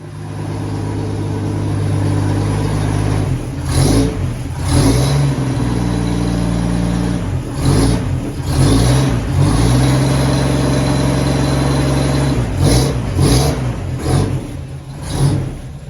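A WW2 halftrack's engine runs loudly and continuously close by, its rough idle broken by repeated revs that rise and fall several times, with no talking over it.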